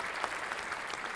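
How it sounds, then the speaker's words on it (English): Audience applause at a live talk show honoring a retiring police sergeant, a steady dense patter of many hands clapping throughout, fairly close and even in level, with no speech over it. "are people clapping?"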